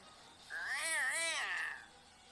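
A cartoon cat in an animated story gives a long, wavering meow that rises and falls, clear and fairly close, standing alone against a quiet background.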